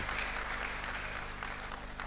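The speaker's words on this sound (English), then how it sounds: "A round of applause for him again, ladies and gentlemen." Steady audience applause at a teachers' certificate award ceremony, a dense, even wash of clapping from many hands heard at a distance and fairly faint, without talk over it.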